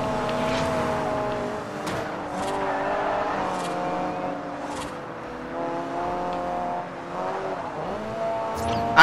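In the Forza Horizon racing game, a car engine revs hard and holds high RPM, with a loud, continuous whine that rises and falls in pitch as it accelerates and shifts, plus faint tire squeal, and nobody talks.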